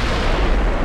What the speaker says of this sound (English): Super heavy shells.